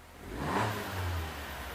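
A car engine revs up briefly and holds at a raised pitch while hooked to a scan tool for diagnosis, a single moderate blip heard at close range with no talking.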